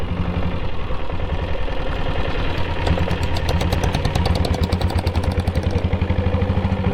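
A diesel vehicle idles nearby on a hill road in a steady, clattering knock, with a faster rattling tick coming in partway through; no talking.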